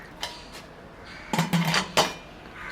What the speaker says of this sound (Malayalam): ഇനി ഈ കുക്കർ അടച്ചിട്ട് നമുക്കിതൊന്ന് വേവിച്ചെടുക്കാം.